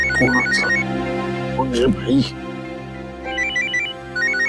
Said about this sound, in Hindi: अरे आ गया, फॉरेन का फोन आ गया।